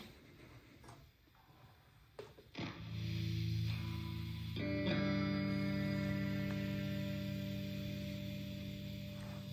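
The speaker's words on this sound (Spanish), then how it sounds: "Y bueno, pues obviamente tengo un poquito de distorsión." Electric guitar played through distortion and overdrive pedals, several picked notes and then sustained chords ringing out, moderately loud with a fuzzy, saturated tone and a long decay, no talking.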